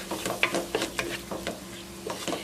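A Cajun pasta base is stirred in a pan over medium heat, with a close, steady sizzle and a run of short scraping and clinking strokes of the utensil, with no talking.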